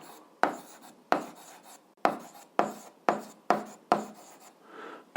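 Someone writing on paper or a board in a maths lesson, about eight separate scratchy strokes, each a sharp start that fades, close and clear with no voices.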